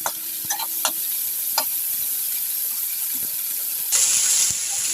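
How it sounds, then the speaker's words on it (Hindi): Soaked chickpeas being roasted with onions in a pan, a steady sizzle broken by sharp spoon scrapes and stirring knocks, swelling louder near the end, with no talk. "इसको भून देंगे।"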